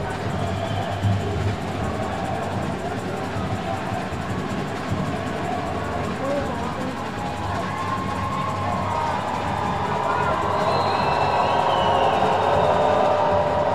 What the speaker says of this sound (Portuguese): Muito barulho aqui na Arena Amadeu Teixeira, torcida Amizade Raiz fazendo a festa aqui na Arena Amadeu Teixeira